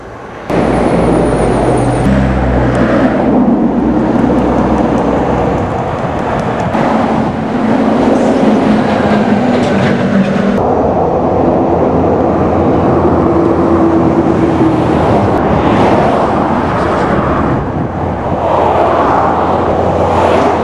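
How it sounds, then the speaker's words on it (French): Cars rush past on a road heading toward Spain, loud and close, one vehicle after another in a continuous roar of engines and tyres with brief swells as each goes by. "Les voitures qui vont par là, eh ben, elles vont en Espagne"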